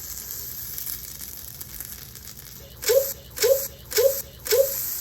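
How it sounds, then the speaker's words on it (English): A cereal quesadilla filled with Frosted Flakes and Cocoa Puffs cooks on a griddle, giving a low background sizzle and then four short, evenly spaced bursts of louder hissing near the end. "It's on a griddle, so it's gonna cook."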